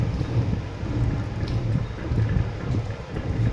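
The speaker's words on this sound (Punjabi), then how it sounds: "ਇਸ ਟਾਈਮ ਮੀਂਹ ਵੀ ਬਹੁਤ ਜ਼ਿਆਦਾ ਪੈ ਰਿਹਾ ਵਾ" Steady heavy rain pours down continuously around a parked 18-foot tractor trolley, a dense, even hiss with low rumbling undertones and no voices.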